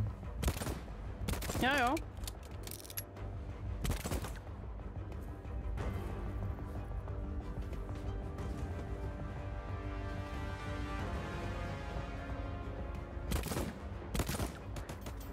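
Gunfire in Voidtrain, a series of sharp, loud gunshot bursts spread across the clip, some in quick clusters, over a humming, mechanical background, with someone briefly talking between shots.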